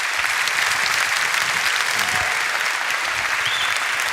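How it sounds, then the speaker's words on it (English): Dense, steady audience applause fills a hall after a science debate, a continuous even wash of many hands clapping without pause and with no talk over it. "Let's give a big round of applause for Brian Greene and Richard Dawkins."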